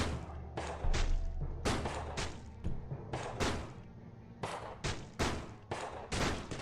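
Rapid gunfire in a zombie video game, with a shotgun mentioned: a dense string of loud, sharp shots and thuds at an uneven rhythm, close and continuous throughout.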